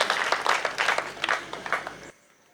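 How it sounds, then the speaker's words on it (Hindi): Audience at a Hindi comic poetry gathering claps loudly in a steady burst of applause that cuts off abruptly after about two seconds. "एक बार जोरदार तालियां"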